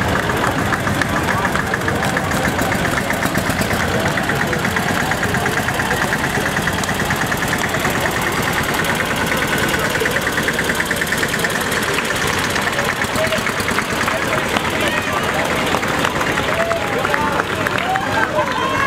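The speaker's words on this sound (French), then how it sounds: "Nous voyons ici un tracteur." An old tractor engine runs steadily during a vintage farm machinery parade at a harvest festival in Blodelsheim, its continuous knocking rumble loud and close under crowd noise, with voices talking in the background.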